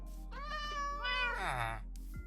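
A Minecraft cat lets out two or three clear, drawn-out meows close by, the last one rising and bending in pitch, over a low steady background hum with no talking.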